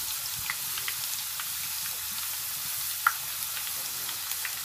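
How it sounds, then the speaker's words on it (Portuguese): Thin sweet potato slices fry in hot oil for homemade chips, giving a steady, quiet sizzle dotted with small scattered pops and crackles, with no voices. "É muito rápida a fritura dela, você não pode nem sair de perto"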